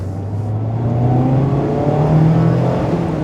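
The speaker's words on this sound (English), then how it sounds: "to show you the kind of noise that you get with the top down at a higher rate of speed" A 2026 Mazda MX-5 Miata RF GT with a 6-speed manual, top down, accelerating at higher speed, a steady rising engine drone under loud wind and road roar, with no talk.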